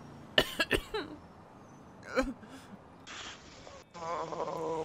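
Several sharp, raspy coughs from a smoke-inhaling character in GTA 5 roleplay, a quick cluster near the start and another later, followed by a muffled voice and a soft background hum.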